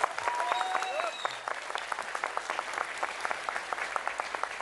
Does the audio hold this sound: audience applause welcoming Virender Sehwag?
yes